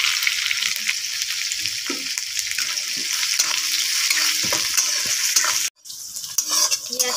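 Chopped onion fries in a small amount of oil for a hilsa curry with a dense, continuous sizzle, and a ladle stirs with scattered clatter. The frying cuts off for a moment near the end and then comes back slightly weaker.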